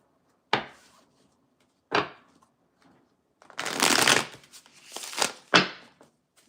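Tarot cards being shuffled by hand: several sharp riffles and taps, separated by pauses, then a longer dense burst of rapid card flicks followed by a few more snaps, all close and loud with no talk.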